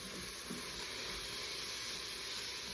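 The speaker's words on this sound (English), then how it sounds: "I'm gonna leave this on sear for just 1 more minute" Vegetables for a spinach and lentil soup searing in an electric pressure cooker, giving a steady, even sizzle and hiss that runs unbroken and fairly quiet throughout.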